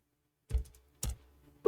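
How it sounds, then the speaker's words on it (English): Three separate keystrokes on a computer keyboard picked up by a new microphone, each a short, close, dull thud-like click with silence in between. "can you hear me typing? Because I can hear me typing."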